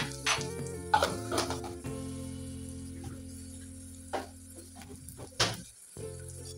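Ginger garlic paste frying in a pan for chicken pulao, a quiet sizzle broken by several sharp scrapes and knocks of a spoon as it is stirred, with no talking.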